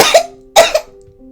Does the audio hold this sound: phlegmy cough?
yes